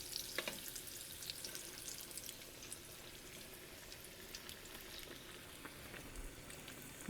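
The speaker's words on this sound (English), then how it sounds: "So we'll fry them until they are nice and browned and cooked through." Leftover mac and cheese bites fry in a small batch of 350-degree oil, giving a steady, dense bubbling crackle with scattered pops, close by and even throughout.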